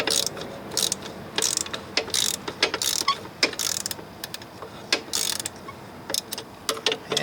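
A ratchet clicks in quick bursts as it loosens a bolt on the chain housing of a Polaris Scrambler 500 ATV, sharp metallic pawl ticks repeating close to the microphone with short pauses between strokes.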